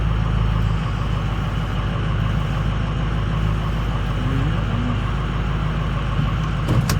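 A Ford 6.0 diesel truck engine idles with a steady, loud, continuous rumble and drone, running without pause throughout.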